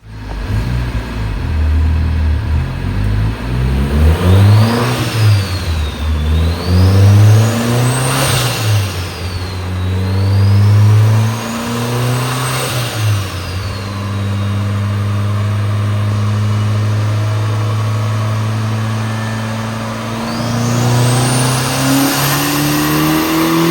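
A Nissan S15 engine revs hard on a dyno in repeated rising and falling sweeps, loud and close, then holds a steady drone before climbing again with no talk.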